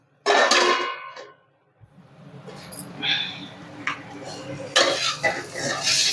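A lid set onto a cooking pan of jeera rice with green peas, a sharp metallic clank up close followed by softer scraping and clinks, with a brief voice.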